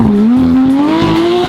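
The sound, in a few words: sports car exhaust with catless headers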